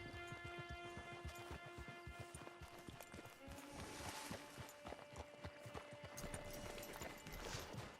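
Horse hooves clip-clopping in Red Dead Redemption 2 Online, a steady rhythmic trot of close, crisp hoofbeats continuing throughout under faint game ambience.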